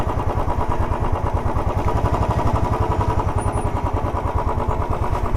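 A motorbike engine runs on sand with its wheels sinking in, out on a bright sunny outing at Lalgunj. The rapid, even pulsing of the engine stays close and loud, with no break, for the whole stretch.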